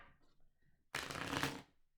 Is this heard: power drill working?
no